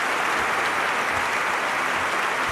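Crowd cheering and applause from the gymnastics vault event in the London 2012 video game, a steady, dense roar of noise filling the whole stretch at even loudness with no talk over it.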